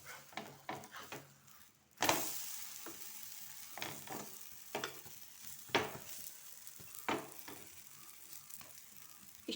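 A protein paratha cooks in a pan over a medium flame after being turned. A faint, soft sizzle runs throughout, broken by scattered scraping and tapping from handling it in the pan.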